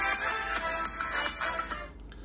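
A ringtone plays from a Lava Bold N1 Pro phone, a short bright chiming melody of repeated notes lasting about two seconds before stopping, moderately loud with no talking.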